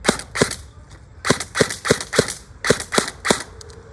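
A SCAR-L airsoft rifle fires a rapid series of sharp snapping shots, about a dozen pops in irregular bursts, close and fairly loud with no voices.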